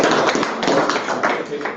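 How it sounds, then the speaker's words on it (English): An audience applauding at a school board meeting, a dense spatter of close, loud clapping filling the room. "so let's give him a round of applause."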